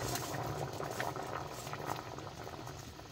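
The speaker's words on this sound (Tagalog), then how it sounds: "ngayon, maglalaga muna tayo ng pasta" Water at a rolling boil in a pot on the stove, salted for cooking full corn pasta, bubbling steadily and continuously at close range with no voices over it.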